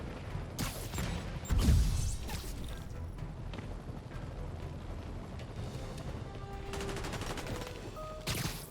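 Bursts of gunfire in Marvel's Spider-Man Remastered as prisoners shoot from stolen vehicles, a dense, steady crackle of shots with a heavier thump early on and a few sharper bursts near the end.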